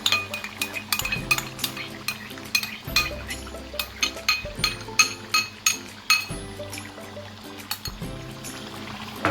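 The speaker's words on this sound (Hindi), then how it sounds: "दही डाल के भी मैं चला रही हूँ।" A spoon stirs whisked yogurt into mutton (dumba) karahi in a metal pot, producing steady close-up rhythmic clinks and scrapes with a soft liquid churn underneath.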